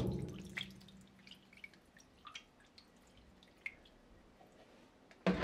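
Acid is added to a shallow pot of water for yarn dyeing, heard as a short pour at the start followed by faint scattered drips and small splashes in a quiet room.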